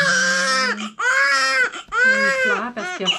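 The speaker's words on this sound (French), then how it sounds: "pleure parce qu'il a froid" A newborn baby cries loudly and close up in long, wailing bursts with short breaths between them, right after birth while being bathed and kept cold.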